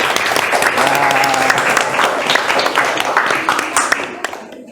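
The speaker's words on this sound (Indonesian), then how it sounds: "kita kasih aplaus, tepuk tangan untuk kelompok 1" Classroom audience claps for the first student group after their presentation on Surah Ali Imran verse 190, a dense burst of hand claps with brief voices mixed in, fading out near the end.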